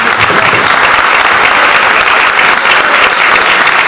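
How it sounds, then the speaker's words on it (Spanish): A crowd applauds loudly and steadily at the presentation of a municipal security project in Chivilcoy, dense continuous clapping close by with no voices over it. "Aplaudan a todos igual, porque si no se van a ofender."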